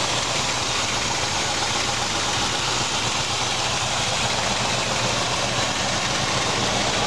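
A limousine engine idles steadily and loudly with a rough low rumble and broad mechanical hiss, no voices present.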